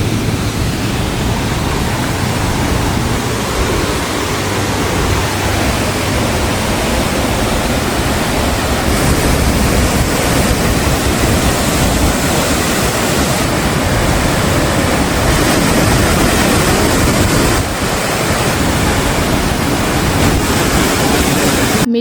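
Dorothy Falls in New Zealand roars as a steady, loud wash of falling water, a dense unbroken rush filling the whole stretch with no voices.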